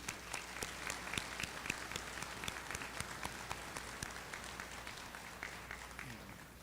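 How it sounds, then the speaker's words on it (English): Audience applause at a Byers High School Class of 2023 graduation ceremony, a steady crowd of clapping hands with sharp individual claps standing out, sustained throughout and fading slightly at the end. "A round of applause for those folks, please."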